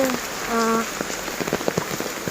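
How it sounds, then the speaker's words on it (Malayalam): Heavy rain patters steadily on a surface in a house yard with scattered drop hits, briefly joined by a short tonal sound near the start. "നല്ല മഴയാണ്"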